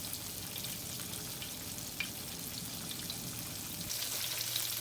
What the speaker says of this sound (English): I'm about to let them fry up.